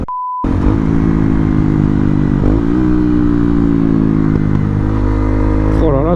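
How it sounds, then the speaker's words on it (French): A motorcycle engine running loud and close, rumbling steadily with shifts in pitch as it revs, after a brief beep at the start. "comment elle pète la moto"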